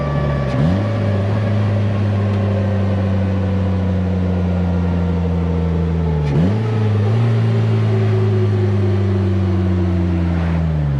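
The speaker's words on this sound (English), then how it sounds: "Now, even when it comes to downshifting, it's super easy. I just throttle, hold." A Polaris Slingshot SLR three-wheeler engine drones loudly and close, then blips sharply twice as it downshifts, with the revs dipping and climbing after each throttle blip.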